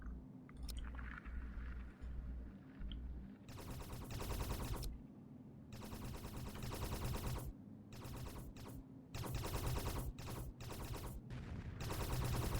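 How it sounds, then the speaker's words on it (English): Video game gunfire in Space Haven, with crew shooting at rocks: rapid automatic bursts in repeated volleys that break off and start again over a low droning hum, loud and steady with brief gaps. "They're also shooting at the rocks as well."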